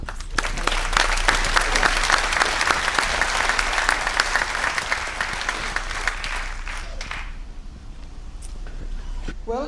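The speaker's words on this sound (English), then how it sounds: "please give a huge round of applause and welcome to the stage" A cruise ship talent show audience applauds a performer coming on stage, sustained crowd clapping that tapers off after about seven seconds, followed by quieter room sound and a brief voice.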